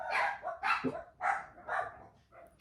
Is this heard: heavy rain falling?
no